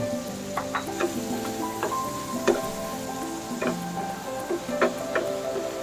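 Kikiam stir-fried in a pan for chop suey, a steady sizzle with repeated clanks and scrapes of a utensil stirring, close and continuous with no talking.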